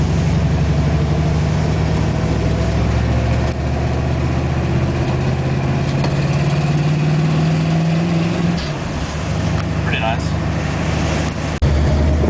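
A 1962 Mercury Comet with a 289 V8 rumbles steadily and then rises in pitch as it accelerates from a stoplight, heard from inside the car with someone talking over the engine.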